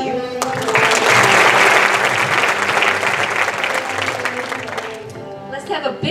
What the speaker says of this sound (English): Let's have a big round of applause for this year's lovely contestant.